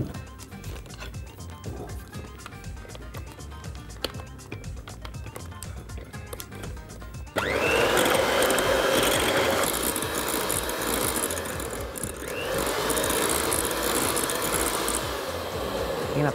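An electric mixer whips cream for a strawberry pistachio dessert, a steady loud whirr starting partway through after quieter clattering and kitchen handling noise, close up with no talk.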